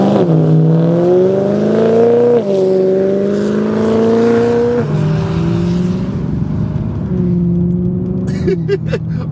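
A BMW E90 M3 saloon's engine roars deeply as it accelerates hard, pitch climbing through several gear changes in close, loud bursts, with a voice faintly underneath.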